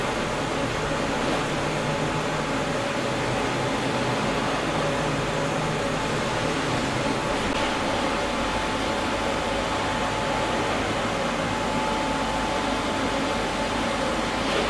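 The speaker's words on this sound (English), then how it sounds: "It's a curtain valve for allowing air into the organ" Air rushing through a curtain valve into the bellows of an organ, a steady, loud, even hiss of broadband airflow with a low hum underneath, continuous throughout with no talk.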